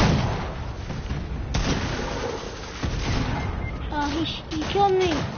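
Gunfire rattles through a video game shootout, a dense, loud barrage of shots filling the clip with sustained bursts while players talk over it.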